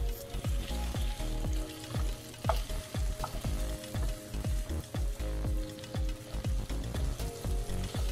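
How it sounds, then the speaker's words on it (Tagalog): Skinless pork longganisa fries in oil until golden brown, a steady sizzling hiss beneath a rhythmic, beat-driven music track that pulses throughout. "maglagay tayo ng mantika para naman sa frying stage"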